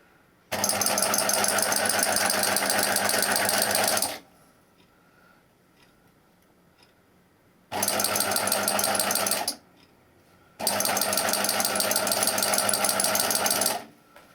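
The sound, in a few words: sewing machine stitching fabric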